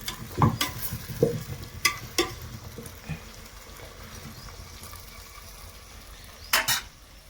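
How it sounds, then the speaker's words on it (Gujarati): Biryani being stirred in a cooking pot, with a handful of scraping, clattering ladle strokes over a low background sizzle, then quieter bubbling and a final pair of clinks near the end. "પેલા આમ હલાવી લઈએ આને, કારણ કે બાકી દાજી જાય છે આ ટોપડીમાં"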